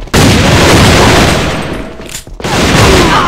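Gunfire in the shooter game Alliance of Valiant Arms, loud dense rapid shooting up close with a brief drop in the middle before the firing resumes.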